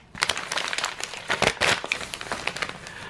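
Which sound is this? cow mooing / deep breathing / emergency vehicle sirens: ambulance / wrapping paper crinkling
wrapping paper crinkling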